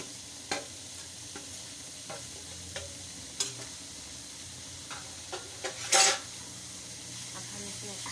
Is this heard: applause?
no